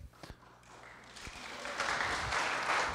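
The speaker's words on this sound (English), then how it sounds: "So I ask that you please withhold your applause until the end of the event." A debate audience bursts into applause, starting faint after a couple of taps and swelling quickly into steady, full clapping from a crowd in the room.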